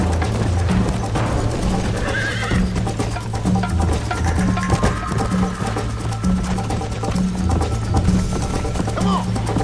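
Galloping horse hooves in the video game Red Dead Redemption beat out a steady rhythmic clip-clop under whinnies and game sounds, while a player talks over it.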